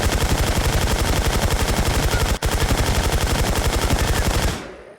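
Automatic gunfire from the survival shooter game Infestation, a loud, rapid, evenly spaced burst of shots that runs almost without a break for about four and a half seconds before cutting off.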